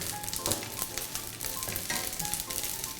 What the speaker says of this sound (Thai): เราทอดกุ้งแห้งนะคะ ใช้ไฟ ปานกลางนะคะ